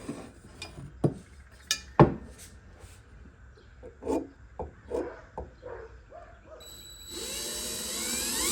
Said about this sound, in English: I don't want to bore you with watching me fight to drill these holes